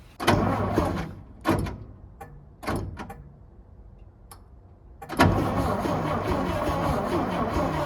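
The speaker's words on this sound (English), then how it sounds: "I don't want to burn up the starter trying to just keep cranking on it" An antique truck left to rot, its starter cranking the engine in several short loud bursts with pauses between, then a longer steady grinding crank at the end, close by.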